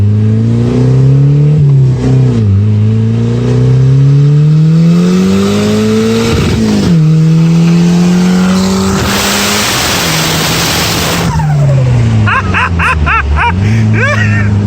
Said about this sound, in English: This is a built 420A big turbo Eclipse, and it fucking scoots.